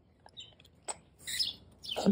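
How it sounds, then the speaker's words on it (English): Several birds chirp and squabble in short, scattered bursts, a few sharp tweets followed by busier chattering calls, fairly faint against a quiet background. "They're fighting birds. Those birds are fighting."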